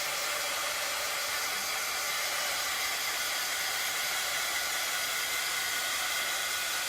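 A hair dryer drying paint dots on buffalo plaid Valentine XoXo decor, blowing a steady, close, even airy whoosh without a break, and nobody speaking.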